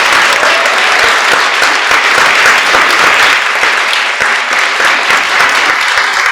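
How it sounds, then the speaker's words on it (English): A forum audience claps loudly for a panel in a sustained, dense round of applause that stays at full strength for several seconds without any voices. "Please, one more round of applause for our amazing panel"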